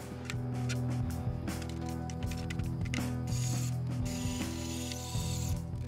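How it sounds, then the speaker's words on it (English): Back plate being screwed onto a Fender Blues Jr. guitar amp: steady ratcheting clicks of a screwdriver, close and continuous, with short pauses between turns. "Now let's reattach the back plate."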